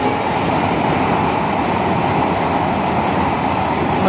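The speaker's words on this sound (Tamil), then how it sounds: "ட்ரெயின் வந்து ரொம்ப வேகமாக வந்து பாம்பன் பாலத்தை கடந்து போய்கிட்டு இருக்கு" A continuous heavy rumble of a train rolling fast across the new Pamban sea bridge, dense and fairly loud, with no voices heard.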